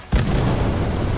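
Incendio fire spell in the Harry Potter Magic Awakened video game, a sudden loud explosive whoosh that erupts and sustains as a roaring, crackling fiery rush.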